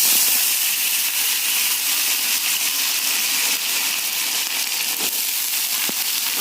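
Potatoes dropped into hot mustard oil with bay leaves and cumin for Bengali chholar dal sizzle with a loud, continuous, close crackling hiss, plus a few sharper pops near the end.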